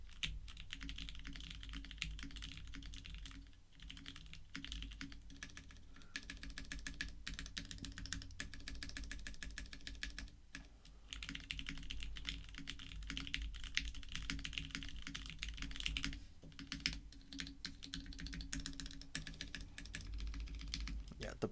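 Typing on a Bakeneko60 mechanical keyboard fitted with used GMK Laser keycaps, a steady clatter of keystrokes running throughout, fairly close with some background hum.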